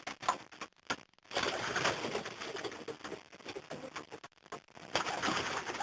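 Pigeons coo softly amid a rustling, fluttery background, with brief quiet gaps between bursts of activity.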